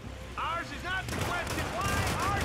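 Gunfire in Hitman (2016) on PC, a rapid burst of shots crackling loudly around a target, mixed with a voice shouting in fear over the shooting.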